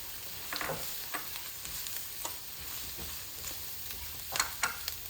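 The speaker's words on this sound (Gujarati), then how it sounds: "And now I'm preparing the tempering and I added the red onion, carrots, cucumber, cabbage." Red onion, carrots, cucumber and cabbage frying in a hot tempering pan, a steady faint sizzle with occasional crackles and stirring clinks scattered throughout, no voices.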